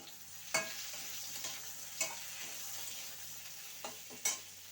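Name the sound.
mixing and stirring ingredients in a pan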